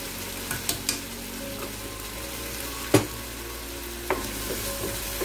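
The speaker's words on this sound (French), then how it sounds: "Je mélange bien, je laisse torréfier toutes mes épices avec mes légumes" Spices with paprika and vegetables toasting in a pan for stuffed cabbage, a soft steady sizzle with a few sharp clicks and scrapes of stirring, moderately quiet and close, no talking.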